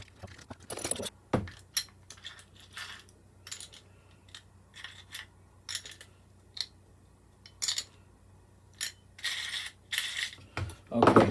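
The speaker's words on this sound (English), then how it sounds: "a lock nut. So let us tighten these up. This is an 8mm bolt again." Tightening an 8mm bolt and lock nut during the assembly of an RC model anchor well lid, heard as short bursts of metallic ratcheting clicks and small clinks separated by pauses, close and fairly quiet.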